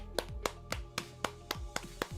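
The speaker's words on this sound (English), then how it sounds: "A standing ovation from Miss Ishmael over here." Clapping in the video game Limbus Company, a slow, evenly spaced series of about eight crisp single claps, each ringing briefly, over a faint steady background tone.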